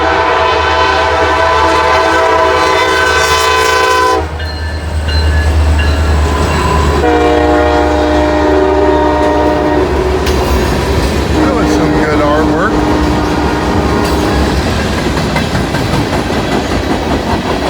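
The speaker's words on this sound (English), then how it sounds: "We got a southbound CSX on the Shortline." Southbound CSX freight train on the Shortline toward Louisville, passing with a loud, sustained multi-tone horn blast, then rumbling wheels and clattering cars with more horn sounds over continuous heavy rolling noise.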